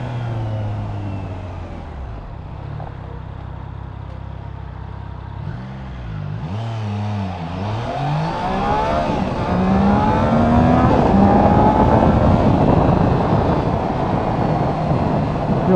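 A 2021 Triumph Trident 660 motorcycle accelerates hard from a standstill toward 60, engine pitch climbing through several gear changes into a steady, loud roar mixed with wind rush, recorded from the rider's seat.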